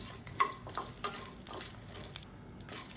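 Chillies, small shallots and a lump of tamarind frying and being stirred in a pan, a soft steady sizzle with occasional scraping clicks of the spoon, close and alone.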